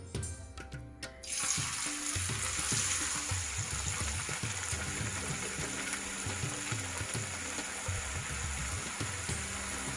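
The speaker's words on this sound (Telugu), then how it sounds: "సో ఇప్పుడు డీప్ ఫ్రై చేసేసుకుందాం." Food dropped into hot oil for deep frying in a home kitchen, a steady, fairly loud crackling sizzle that begins after a brief noisy start and continues evenly without talk.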